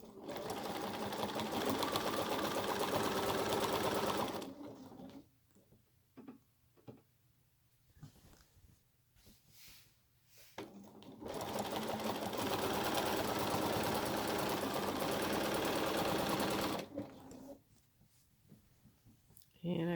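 Home sewing machine stitching a spray-basted quilt, a rapid steady mechanical whir in two long runs separated by a quieter pause with a few clicks and faint handling, close and loud.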